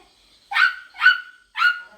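A person imitating a puppy barking during a family game: three short, high yipping barks in quick succession, close and clear, with no other sound around them.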